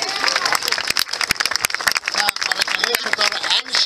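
An audience claps through a live political speech in Amsterdam, a dense patter of hands with a voice speaking over the applause.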